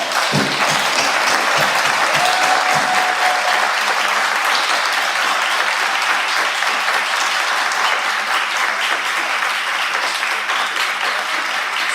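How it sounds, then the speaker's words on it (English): An audience at a wine and chill event giving a round of applause, sustained dense clapping close and loud that carries on steadily without talk. "Let's give her a round of applause."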